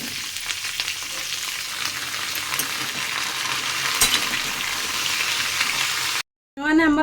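Pointed gourd (parwal) pieces fry in oil in a pan with a steady, crackling sizzle, close and loud. The sound stops abruptly near the end, and a brief voice follows.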